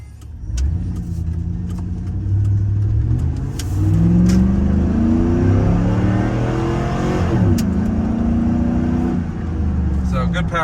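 A 2001 GMC Sierra single-cab pickup with a 5.3-liter V8 and 3.73 gears accelerates hard from inside the cab, its engine note rising steadily, easing, then climbing again, loud and close while someone talks over it.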